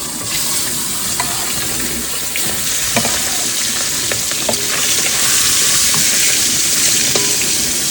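Fish frying in hot oil in an outdoor riverside cooking setup gives a steady, dense sizzle and crackle, with scattered pops and light clinks of a utensil; no one speaks.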